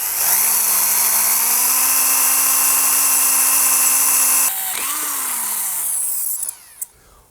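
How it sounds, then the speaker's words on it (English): A power drill whines at steady high speed while cutting through metal conduit held in a vise, then slows, changes pitch, and winds down to a stop. "get our drill, set it in the dimple, and drill through it."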